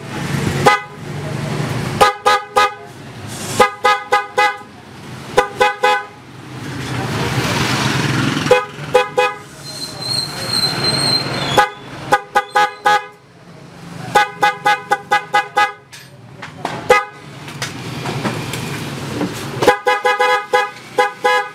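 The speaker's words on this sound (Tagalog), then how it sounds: "So yun nga yung tunog ng busina ni boss." A car horn with separate high and low tones sounds in repeated short bursts and longer blasts, loud and close, between stretches where someone talks.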